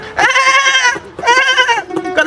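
A man imitates a mother goat bleating for her kids: two long, loud, nasal, quavering bleats close up, separated by a short pause.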